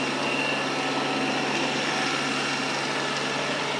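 A Xiaomi Robot Vacuum Mop 2 Pro runs in its silent mode, giving a steady, broadband whirring hum with no breaks, close and fairly loud throughout.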